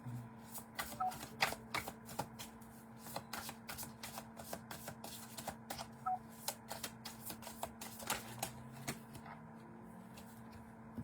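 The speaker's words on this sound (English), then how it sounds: "Cards are flipping. Cards are flipping." Tarot cards are shuffled and flipped in quick, uneven riffles and soft flicks, close and quiet, running steadily over a faint low hum.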